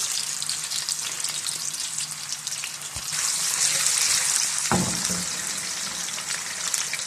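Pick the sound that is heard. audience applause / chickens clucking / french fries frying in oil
french fries frying in oil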